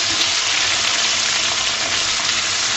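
Okra (bhindi) added to a pan with a little hot oil, giving a loud, dense, unbroken sizzle that stays steady throughout with no voices.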